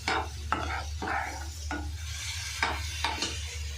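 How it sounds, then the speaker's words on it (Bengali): Onion paste and slit green chillies being stirred in a pan over a very low gas flame, with repeated scraping strokes of a spoon against the pan at a steady rhythm over a low hum, close and moderately quiet. "কাঁচা লঙ্কা চিড়ে পেঁয়াজ বাটা দিয়ে দিলাম, কিছু নাড়তে লাগলাম"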